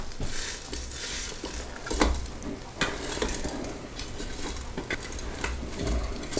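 Shake and Bake pork chops are flipped inside a Ninja Foodi air crisper: soft sizzling under scattered clinks and scrapes of utensils against the pot, close and fairly quiet, with no talk.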